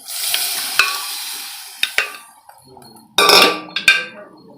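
Chandan batva greens go into roasted masala in a pan, giving a soft sizzle broken by sharp clinks and scrapes from stirring in several distinct bursts.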